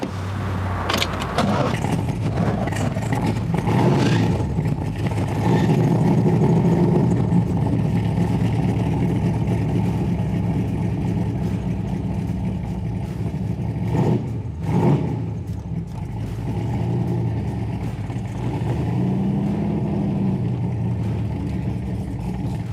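A 1964 big block Corvette convertible rumbles steadily as it is driven, its engine holding a low, continuous drone with brief swells over roughly twenty seconds.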